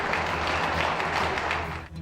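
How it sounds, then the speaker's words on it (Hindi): Lockdown applause from residents on balconies honouring health workers: a steady, dense wash of many hands clapping across a whole neighbourhood, fairly distant and continuous, with no clear talk over it. "ऐसे में पूरा इलाका तालियों की गड़गड़ाहट से गूंज उठा।"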